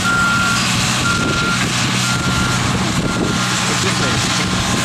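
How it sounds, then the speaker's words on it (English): Tractor on a beach droning steadily while backing up, with its reversing alarm faintly beeping in the background under people talking and wind-like outdoor noise. "With the tractor in the background."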